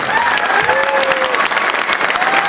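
Loud, dense applause from a large audience at a motivational speech event, sustained and steady throughout with a few faint whistles or cheers riding over the clapping.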